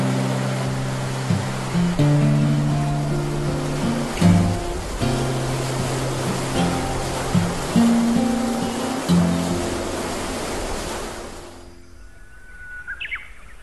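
A powerful river rushes continuously in a remote landscape on the Xinjiang–Mongolia border, broad and steady, with birds chirping over it; the water noise drops away abruptly near the end, leaving near-silence and a few faint calls.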